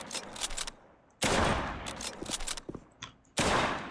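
Shots ring out in a video game: a few sharp, loud gunshot blasts separated by short pauses, each with a noisy burst and decay.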